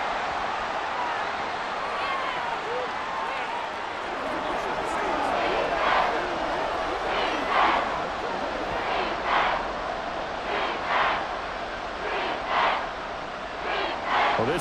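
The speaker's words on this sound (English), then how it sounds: "this crowd making it hard to hear" Stadium crowd noise from a Madden 24 football video game, a constant loud roar that swells and surges in waves over its steady wash.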